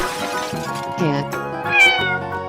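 A cartoon cat meows in a lively children's animal transformation sequence, a few rising and falling tonal cries heard close and fairly loud over bright background music.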